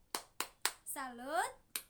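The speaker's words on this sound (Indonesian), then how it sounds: "Beri tepuk salut lagi anak-anak untuk kelompok 1." A classroom of children gives a rhythmic salute clap for a student group, three sharp near claps in a steady beat, then a sung chant, then one more clap.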